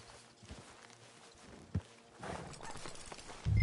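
Horse hooves walking in Red Dead Redemption 2, soft irregular footfalls at a steady moderate distance, with a sharper thud near the middle and a louder low rumble at the very end, no talking.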